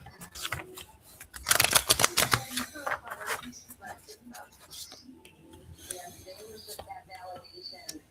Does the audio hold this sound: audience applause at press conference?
no